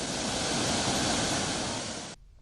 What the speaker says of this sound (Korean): 쉼없이 떨어지는 이 장쾌한 폭포 소리는 온 고란을 쾅쾅 울리고 있는데